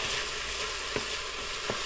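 Peppers sizzle and fry in a stainless steel Instant Pot liner while a wooden utensil stirs them, giving a steady hiss with two soft scraping strokes.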